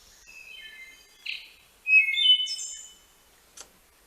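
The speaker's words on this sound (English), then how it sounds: "It's a wood thrush." A wood thrush sings a few clear, fluting phrases with breathy trills between them, close and bright against near silence, with a brief soft call at the end.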